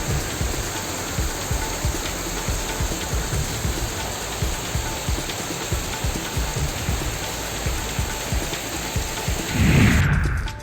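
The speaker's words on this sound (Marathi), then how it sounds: "नंदुरबार जिल्ह्यातील काकडदा परिसरामध्ये तुफान पाऊस झाला." Heavy unseasonal rain pours down steadily in the Kakdada area of Nandurbar district, a dense, constant roar of drops hitting the ground with no voices, swelling slightly louder near the end.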